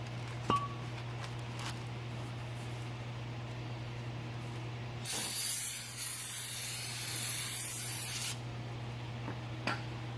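A steady aerosol cleaner spray hisses onto car brake parts for about three seconds, close and loud, between faint clicks and handling noises.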